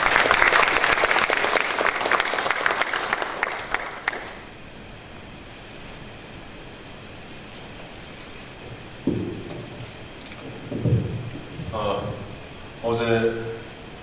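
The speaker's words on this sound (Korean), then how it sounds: "뜨거운 박수로 맞아주시기 바랍니다." At a legislative public hearing in Korea, the audience welcomes the chairman of the Jeollabuk-do provincial council with about four seconds of steady, full applause that fades into a quiet room before a voice starts speaking.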